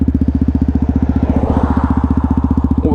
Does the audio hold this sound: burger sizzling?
no